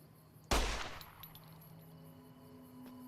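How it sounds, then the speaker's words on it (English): In the Fallout New Vegas video game, a single sharp gunshot cracks and bullets strike the ground, followed by a ringing metallic decay and a quiet background hum. "And our bullets hitting the ground."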